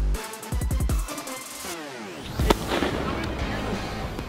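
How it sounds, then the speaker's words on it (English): Fireworks go off close by: whistling rockets rise in sweeping tones, then a sharp bang is followed by dense crackling bursts that continue to the end. "The fireworks go off."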